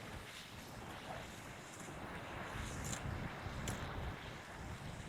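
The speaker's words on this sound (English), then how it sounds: "it's quite windy now." Steady, broad wind noise roars across the microphone without pause on a shingle beach, a constant blustery rush with no voices.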